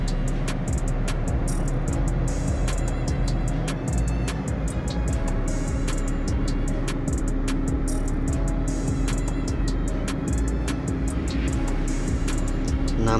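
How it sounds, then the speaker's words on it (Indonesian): A Toyota Innova petrol engine held at around 2000 RPM, a loud, steady, close drone with regular pulsing ticks running throughout, no voices over it. "Kita gas di RPM 2000."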